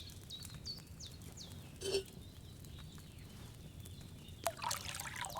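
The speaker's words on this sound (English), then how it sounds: "So, what did you pour in there? Wine, of course." Wine poured from a pitcher into a cauldron in Kingdom Come Deliverance 2, a faint trickling stream under a quiet ambient bed with chirping birds, brief and low in level.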